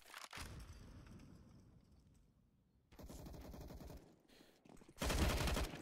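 Counter-Strike gunfire on the Inferno map during a match: bursts of rapid shots in three separate stretches, the last one loudest and nearest, with quieter gaps between them.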